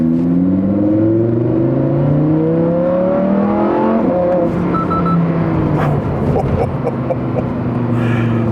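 A Lamborghini Huracán Sterrato accelerates on the road in manual mode, its engine note climbing loudly and steadily as the revs rise, then settling into a steadier roar.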